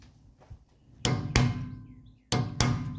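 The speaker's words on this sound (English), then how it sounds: "you have to just tap them in, and that little compressible metal piece will squish together" Four sharp hammer taps on metal in two pairs, tapping compressible metal pins into rear brake calipers of a 1981 Mercedes 300SD, close and loud, with quiet pauses between them.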